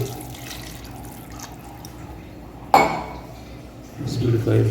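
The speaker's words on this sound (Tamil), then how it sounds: "2 கிளாஸ் ரைஸுக்கு நான் இப்போ தண்ணி ஊற்றுறேன்" Water is poured into a pot of rice being prepared for mutton dum biryani, with a sharp clank of a vessel midway followed by a louder splashing pour near the end, against faint kitchen background.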